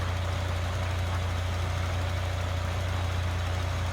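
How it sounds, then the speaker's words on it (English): A New Holland T7550 tractor idles in Farming Simulator 2013, its steady low engine drone running evenly and unbroken throughout with no talk over it. "Yeah, this is a nice tractor."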